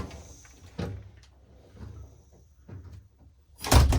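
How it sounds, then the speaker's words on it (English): A storm door creaks and swings with soft thuds, then shuts with a firm, loud clunk as it latches. "Open it up, you step through, you let the door go."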